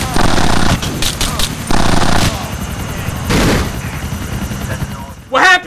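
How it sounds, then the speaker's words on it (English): Helicopters and gunfire in GTA: The Ballad of Gay Tony, loud bursts of rapid automatic fire and booming shots over a continuous rotor drone, with a few short pauses between volleys. "They got two of these choppers."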